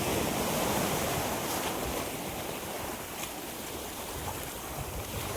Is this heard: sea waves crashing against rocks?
yes